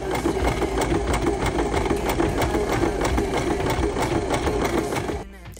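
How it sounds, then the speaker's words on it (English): Sewing machine stitching a zigzag stitch in black thread on a plush toy, a steady fast mechanical whirr and clatter running continuously before stopping at the end. "We will then use black thread to do a straight stitch along the eye and a zigzag stitch along the edge of the frown."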